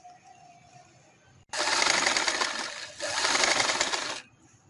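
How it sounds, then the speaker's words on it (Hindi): A sewing machine stitches fabric for a full-sleeve winter garment, running in one continuous burst of about three seconds that briefly dips midway, loud against a quiet room with no talking. "मैं इसी तरह इसको सिलाई लगाते हुए इस साइड पे ले आऊंगी कपड़े को।"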